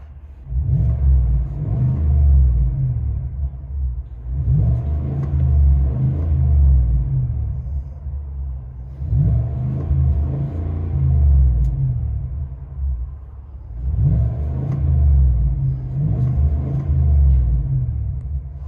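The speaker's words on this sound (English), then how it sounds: "Silverado Z71 with a MAGNAFLOW big body muffler." Deep, steady rumble of a 2020 Chevy Silverado Z71 6.2L V8 with a MagnaFlow big body muffler, heard from inside the cab, swelling in four long revving surges with brief dips between them, no talking.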